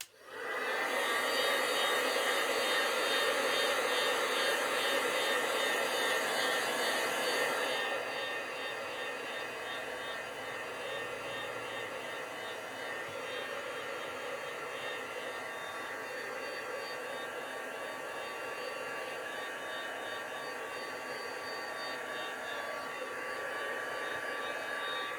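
A heat tool blows steadily for about twenty-five seconds, drying ink on a stamped craft tag. The whir is loud at first, then drops to a slightly quieter, constant roar.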